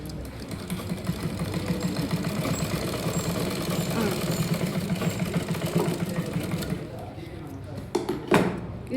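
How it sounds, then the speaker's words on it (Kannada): A sewing machine stitches fabric with a rapid, even mechanical chatter for several seconds before stopping, followed by a few clicks and handling noises. "ಇಲ್ಲಿ ನೋಡಿ ಒಂದ್ಸತಿ ನಾನು ಸ್ಟಿಚ್ ಮಾಡ್ತೀನಿ"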